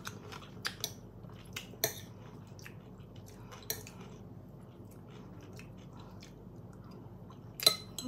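Spicy green mango salad (som tam) is eaten up close, with scattered crisp crunchy bites and soft chewing at irregular intervals, a louder crunch near the end, and no speech.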